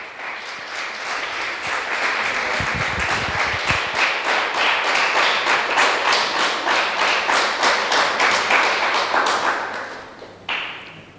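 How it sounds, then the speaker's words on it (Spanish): A church congregation claps together in a steady, rhythmic beat for around ten seconds, loud and close, with a few soft low thumps early on before the clapping fades and one last clap rings out. "Damos un aplauso al Señor."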